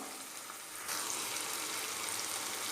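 Tomatoes sautéing with a little salt in a pan for vatha kuzhambu, a steady soft sizzle that grows louder and brighter about a second in, then holds evenly with no voices.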